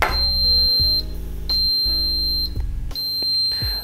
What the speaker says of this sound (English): This is how it beeps, and these three beep noises will return every 30 seconds.